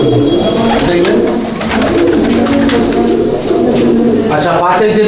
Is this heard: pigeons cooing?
yes